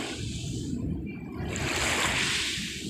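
Gentle ocean waves wash and trickle on the shore at Dolomite Beach in Manila, a continuous soft hiss and splash that swells slightly midway, steady and fairly close with no talking.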